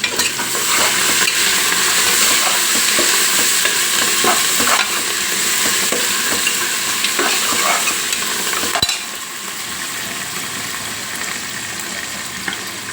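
Ginger garlic paste frying with fresh herbs in a pan for a Telangana mutton head curry, a steady loud sizzle with occasional stirring scrapes, easing slightly in the last few seconds.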